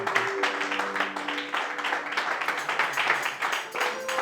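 A church congregation claps together in praise of the Lord, a steady dense applause that lasts throughout, with sustained singing or voices blended underneath.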